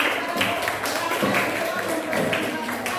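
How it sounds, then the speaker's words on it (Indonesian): Classroom applause after a student group's presentation, a steady run of hand claps filling the room at moderate loudness with faint chatter mixed in. "Ya, tepuk tangan."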